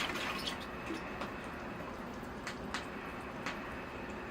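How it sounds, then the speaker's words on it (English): Water poured over bonsai soil in a pot while repotting a native red maple penjing, a steady soft trickle and patter running throughout with a few brighter splashes. "Okay, here I go with the water."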